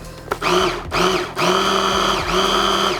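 Electric meat grinder working through steak with a little olive oil added, a loud close motor whine that surges and drops in pitch several times as the meat feeds through.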